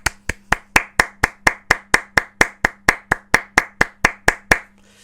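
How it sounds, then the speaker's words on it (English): Close, crisp handclaps ring out one after another in a steady, evenly spaced beat, about twenty in a row over a faint low hum, then stop. "A big round of applause."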